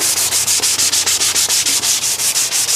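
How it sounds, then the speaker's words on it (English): A wooden tool handle being sanded by hand with 220 grit sandpaper, a steady run of rhythmic rasping strokes, about six per second, close and fairly loud with no talking. "I'm just going to take a sandpaper. This is 220 grit."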